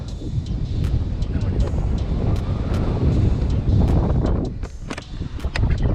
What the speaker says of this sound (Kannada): ಎಂಥ ಕ್ರೇಜಿ ಗಾಳಿ ಗೊತ್ತಾ, ಗಾಳಿ ಮತ್ತು ವೆದರು